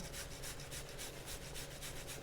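Fresh ginger is rubbed against a grater over a pan, giving a faint, steady rhythmic rasping with regular back-and-forth strokes and no voices.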